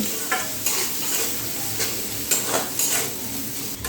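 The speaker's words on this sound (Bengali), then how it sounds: "এবারে সব কিছু মিশিয়ে আবারও খুব ভালো করে একটু ভেজে নিতে হবে" A semolina mixture with green chilli, salt, turmeric and coriander powder is stir-fried in a pan. A continuous close sizzle carries repeated scraping strokes of a spoon, with no talking.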